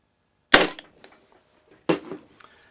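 A Parkside PET25C3 corded brad nailer fires twice into a piece of maple, each shot a sharp, close snap with a brief rattle trailing after, separated by about a second and a half of quiet.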